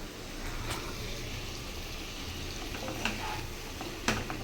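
Chicken curry being stirred in a pan, a soft continuous sizzle with a few light scraping clinks from the spoon against the metal, close but fairly quiet with no talking.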